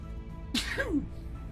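A single short sneeze, sharp and close, bursting out over a quiet, low background hum.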